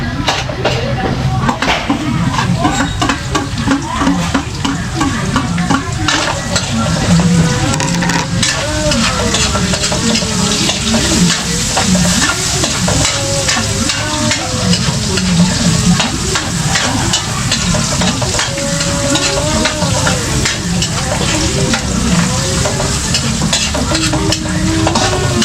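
Onions for beef adobo in coconut milk are sautéed in a pan, with a loud, steady sizzle and constant stirring and scraping throughout, up close with a voice briefly audible.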